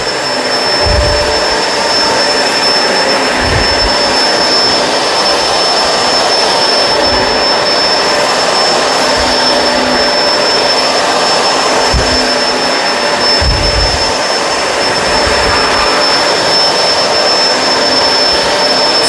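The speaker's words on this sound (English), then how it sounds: "Go back onto this rug. Make sure this rug is clean." Kenmore Crossover Ultra vacuum cleaner running steadily on a rug, a loud close continuous whine and rush with occasional low thumps as the head moves across the carpet.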